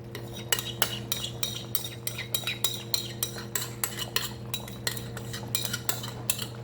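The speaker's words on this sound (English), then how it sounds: "I'm gonna dump all this right back in my pot, just like that" Cooked oxtail and its juices are dumped back into a cooking pot with a metal utensil, making a regular series of sharp clinks and scrapes against the pot, close and clear with a low steady hum beneath.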